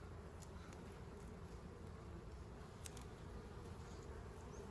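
A dense, steady buzzing of many honeybees of the Carpathian breed swarms continuously around an open hive, close and constant, with no voices.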